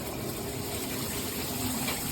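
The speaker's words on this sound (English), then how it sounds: "The water shoots out really well." Water rushing steadily from a Cobbe 12-inch all-metal three-way high-pressure rain shower head, a dense, continuous hiss close by with no breaks.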